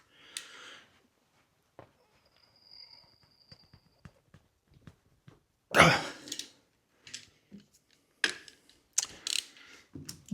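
Ratchet wrench clicking on a tight bolt of a Jaguar V12 engine, heard as sparse, close mechanical clicks and knocks with a louder burst of ratcheting and clatter midway.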